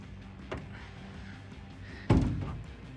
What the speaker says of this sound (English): door closes in like that